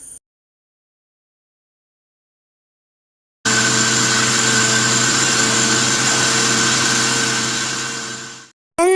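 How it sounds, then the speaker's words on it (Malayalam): A mixer grinder jar blending mint, coriander leaves and vinegar starts after a few seconds of silence, then whirs loudly and steadily before spinning down and stopping. "പുതിന, മല്ലിയില, വിനാഗിരി അതൊന്നും നമുക്ക് ജാറിക്ക് ഇട്ട് കൊടുക്കാം. നന്നായി അടിച്ചെടുക്കാം"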